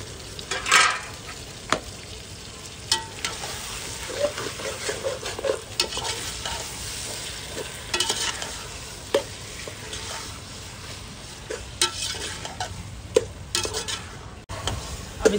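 Tomatoes are stirred into golden-brown fried onions in a pan for a chicken dish, with a continuous sizzle broken by repeated scraping and clacking of the spoon against the pan.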